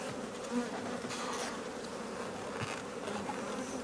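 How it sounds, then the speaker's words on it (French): Honeybees buzzing around an open beehive during a summer honey harvest, a dense, continuous hum of many insects close by with individual bees swelling louder as they pass, and no talking. "Attention de ne pas écraser l'abeille."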